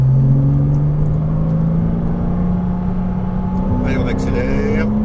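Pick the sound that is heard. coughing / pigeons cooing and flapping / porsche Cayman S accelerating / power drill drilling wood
porsche Cayman S accelerating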